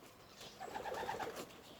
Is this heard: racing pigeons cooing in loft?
yes